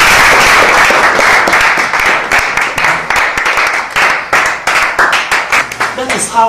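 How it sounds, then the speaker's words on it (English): A classroom of students claps for a classmate, a dense burst of close, loud hand claps that thins into scattered individual claps toward the end. "Wow, class, give her a round of applause"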